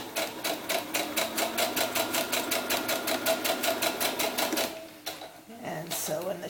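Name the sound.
sewing machine sewing a channel in a doll's sunsuit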